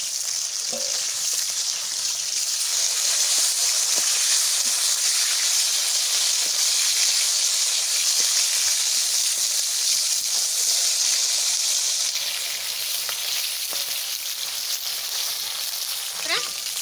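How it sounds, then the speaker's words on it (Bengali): Khoiri fish fry in a pan of oil to a reddish crisp, a loud, continuous close-up sizzle and hiss that holds steady throughout, with a few faint clinks and scrapes underneath. "মাছ দেখছি তো কেরম করে ভাজা করে নিচ্ছি, এরকম লাল লাল করে ভাজা করে দিচ্ছি।"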